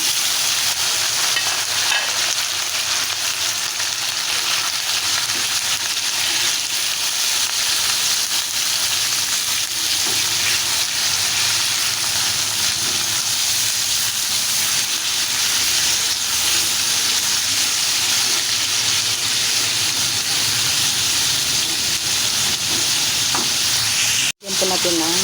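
Meat sautés in a hot pan with a loud, dense, continuous sizzle and hiss that dominates the scene, steady throughout with faint stirring beneath, cutting off abruptly near the end.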